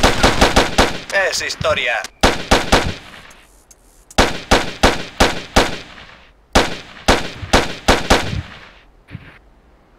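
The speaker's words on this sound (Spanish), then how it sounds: "Sí, comienza el disparo." Rapid bursts of gunfire ring out in the online shooter Ghost Recon, loud close shots fired in quick rhythmic volleys separated by short pauses, while someone speaks briefly in Spanish between them.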